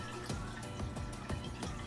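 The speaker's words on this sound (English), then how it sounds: "What a good dog drinking water." A pet dog laps up water in a home setting, a close, steady series of quick wet laps in an even rhythm, with no voices.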